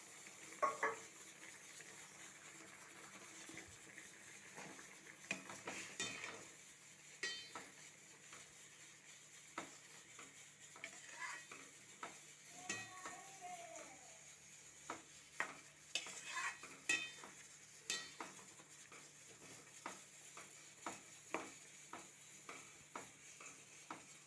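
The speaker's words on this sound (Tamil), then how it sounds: "எல்லாவற்றையும் நன்றாக கிண்டி விட்டு காய் வேக வைக்க வேண்டும்" A spoon stirs vegetable kootu with ground coconut paste, chilli powder and turmeric in a cooking pot, giving a long run of soft scraping strokes and light metallic clinks, with faint sizzling underneath and no talking.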